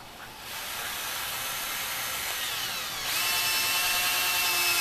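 A power drill drives screws into a shed wall, making a close, loud, continuous whirring whine that strengthens and steps up in pitch near the end, with no voices.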